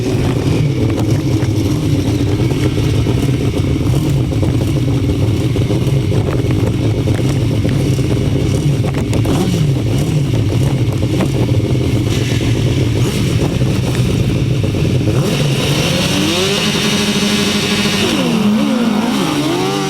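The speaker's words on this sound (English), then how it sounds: "the start of the third leg of the 1000cc sidecars" Several 1000cc sidecar motorcycles rev together on the line at a grasstrack race, a loud, dense, continuous engine roar that rises into a surging acceleration as they pull away near the end.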